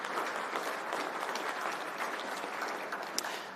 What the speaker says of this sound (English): what about a round of applause to all of our young innovators?